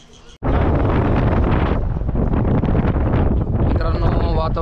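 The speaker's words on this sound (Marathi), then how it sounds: "पूर्ण वारा यायला लागला आहे." Strong gusting wind buffeting the microphone on a mountain road near Okhimath during a rainy Kedarnath yatra, a loud continuous roar that starts abruptly and stays close and heavy throughout.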